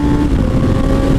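Motorcycle fitted with a swapped Suzuki GSX-R engine pulling hard in first gear, a loud, steady engine roar with a rising tone filling the whole short stretch, close and unbroken.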